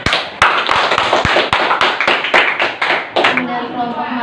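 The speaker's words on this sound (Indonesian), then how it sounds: "kita berikan tepuk tangan untuk kelompok Matius" Students in a classroom clap for a presenting group, a short round of dense, close hand claps with voices talking over it, fading out near the end.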